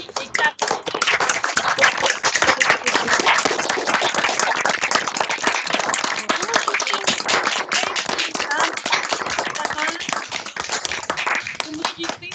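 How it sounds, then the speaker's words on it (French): Applause for Tracy and Catherine comes over several open microphones on an online call. Many people clap at once for the whole stretch, with fast, uneven, slightly clipped handclaps from different sources overlapping throughout. "Vous méritez ces applaudissements-là"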